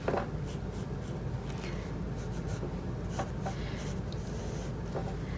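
Pencil drawing a cake on paper: steady, continuous scratchy rubbing of graphite, close and even throughout, broken only by a few lighter stroke accents.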